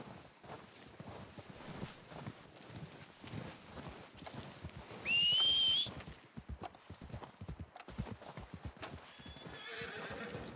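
Horses in the Red Dead Redemption 2 video game clop steadily on the ground with rhythmic hoofbeats, while one lets out a loud, shrill whinny midway and a fainter neigh follows near the end.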